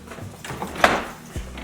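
Kitchen fridge door opening: a couple of soft thuds and a brief rattling clunk, close and fairly loud, with no voices.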